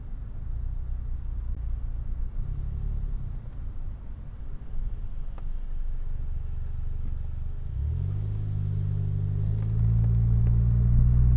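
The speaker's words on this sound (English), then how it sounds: "mic'd up on the exhaust, you're gonna hear the beautiful sounds it makes." Low, steady engine rumble from a car's exhaust while driving, deepening and swelling louder near the end as the engine builds revs.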